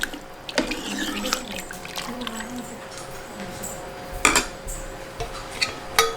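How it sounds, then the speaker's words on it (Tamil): Water poured from a vessel into a pot for a bone broth soup in a home kitchen, a steady close splashing stream with brief clinks of the pot and utensils. "வேணுங்கிற அளவு தண்ணி ஊற்றிக்கோங்க"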